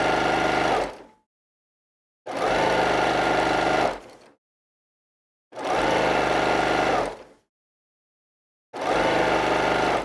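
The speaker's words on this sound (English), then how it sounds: "Just allow the machine to do most of the work when you're doing big long runs like this" A sewing machine stitches long jelly roll quilt strips in four steady bursts, each running about two seconds with brief silent pauses between, close and fairly loud with no talking.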